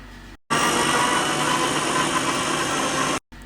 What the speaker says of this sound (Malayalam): ഇനി നമുക്കിതൊന്ന് മൂടി വെച്ച് നല്ല അടിപൊളിയായിട്ട് അടിച്ചെടുക്കാം